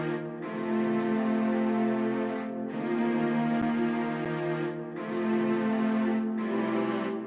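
A full string section plays sustained chords over electric piano in a hip-hop beat, with the harmony shifting in long even swells and no voices.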